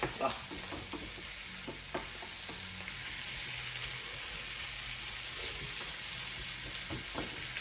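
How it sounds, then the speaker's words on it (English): Chorizo, onions and garlic frying in a pan while being stirred: a steady sizzle fills the clip, with repeated spoon scrapes and knocks against the pan and no voices. "keep stirring that, and you want your onions all nice and soft"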